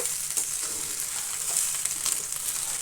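Egg baji, a scrambled egg side dish, sizzles softly in a pan while being stirred, a steady gentle frying hiss with light scraping strokes scattered throughout.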